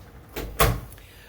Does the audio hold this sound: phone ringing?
no